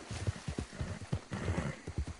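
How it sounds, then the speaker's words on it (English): Horse hooves clip-clopping in the video game Syndicate in Da West, a brisk, uneven run of thudding steps close by, with no talk over it. "Oh, there's your horse over there."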